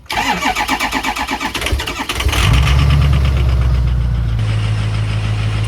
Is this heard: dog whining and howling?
no